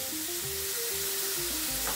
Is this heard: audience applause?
no